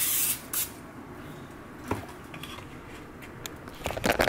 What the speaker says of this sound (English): zero calorie cooking spray.